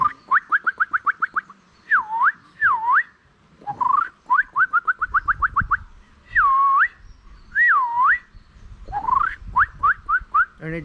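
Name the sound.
whistled imitation of male shama bird's breeding-season song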